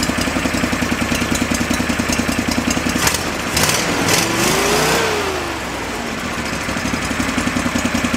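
Old Go-For digger engine, a forgotten machine from an estate sale, revving up loudly from a steady idle, rising in pitch to a peak and falling back to a rough, chugging idle close by.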